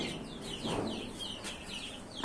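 A white hen and a rooster cluck softly in a small backyard flock, with a few short, faint clucks close by in a quiet setting.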